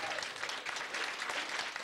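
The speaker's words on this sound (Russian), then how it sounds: "ведь девочки все-таки достойны бурных аплодисментов" Audience applauding the contestants at the 1999 Malika beauty pageant, a short burst of dense, steady clapping from a crowd.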